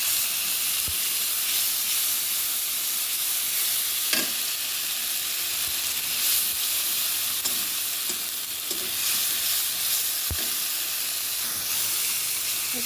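A ground paste of ginger, cumin, fennel, garlic and onion fries in hot oil for a katla fish dish, giving a loud, steady hissing sizzle with a few faint clinks from a stirring spoon, and no voices.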